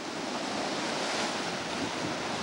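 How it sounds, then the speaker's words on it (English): Water rushes into Bombo Quarry as a dense, steady roar of churning flow, loud and continuous with no voices. "here we've got an inrush of water"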